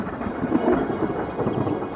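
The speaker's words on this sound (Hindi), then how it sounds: "इनमें सिर्फ गरज और बिजली है, लेकिन वो बारिश नहीं जिसकी सख्त जरूरत है।" Deep rumbling thunder rolls over dry, drought-stricken plains, a steady low growl that swells slightly midway and lingers without letting up.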